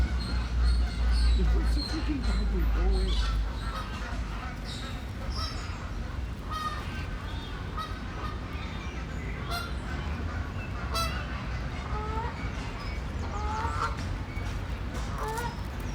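Geese honk repeatedly by a lake, their calls overlapping near and far over steady outdoor background noise and a low rumble, with people talking now and then.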